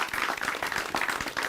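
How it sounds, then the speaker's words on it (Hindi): A gathering of women farmers at a rural agriculture forum applauds, with dense, even clapping at moderate volume filling the whole short moment. "जोरदार तालियां बजा दीजिए आप सभी अपने लिए"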